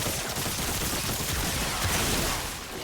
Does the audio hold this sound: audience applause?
no